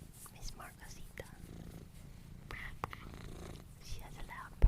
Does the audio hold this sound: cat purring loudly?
yes